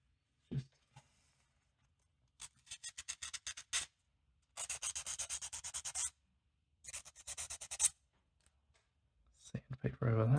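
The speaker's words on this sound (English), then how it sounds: "sandpaper over that" Sandpaper rubbed in bursts of quick strokes over a slightly damaged part of a Radial NT gut, close and fairly quiet, with short pauses between rasping runs and a brief voice at the end.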